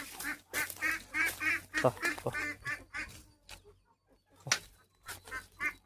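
Ducks quack in quick, nasal bursts close by, while a person talks and calls out intermittently over them.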